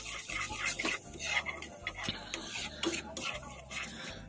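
Masala roasting on a medium flame while a spoon stirs and scrapes the pan, a busy, close sequence of clinks and scrapes over a faint sizzle.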